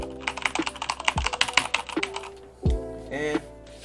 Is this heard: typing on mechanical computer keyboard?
yes